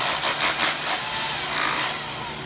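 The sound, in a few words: rotary hammer chiseling off tile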